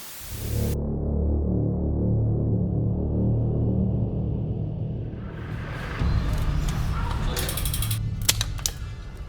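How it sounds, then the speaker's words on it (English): Bolt cutters bite through a cheap bike lock, giving a strained metallic crunch and a few sharp snaps and clicks at the end, all close and over a loud low rumble. "The bolt cutters just chopped straight through it."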